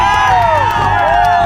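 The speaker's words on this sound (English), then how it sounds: "Now for the next shot, all these guys cheering." A group of people cheering in an edited video clip, a loud, continuous crowd roar with rising and falling whoops layered over it for the short burst.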